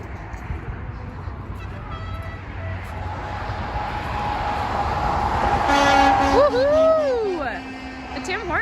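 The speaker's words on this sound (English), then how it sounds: "The Tim Hortons truck just honked." A Tim Hortons truck horn blares loudly for a couple of seconds, its pitch wavering, over a steady rumble of passing road traffic.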